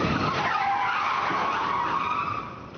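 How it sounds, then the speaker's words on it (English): A car skids hard as it swerves violently after being struck in a street crash, a sustained loud tire screech that holds steady and then fades slightly at the end. "another vehicle speeds through the street and crashes into her, causing her to swerve violently"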